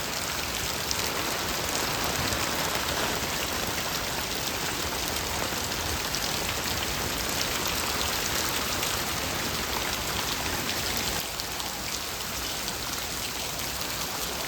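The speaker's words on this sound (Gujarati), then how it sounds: "બે ધનાધન વરસાદ પડે ભાઈઓ" Heavy rain pours down with wind outside a house during a storm, a dense, loud, unbroken hiss of water striking surfaces throughout.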